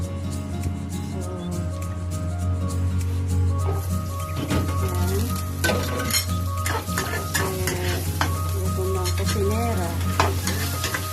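Mushrooms fry in a pan for pasta with cream of mushroom, a steady close sizzle with scraping and stirring clatter throughout, alone without talk.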